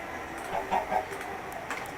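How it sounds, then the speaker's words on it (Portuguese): Chickens clucking in a farm-building video game, a few short soft clucks in a quick cluster, faint and close, without talk. "Temos 4 galinhas, já dá pra procriar."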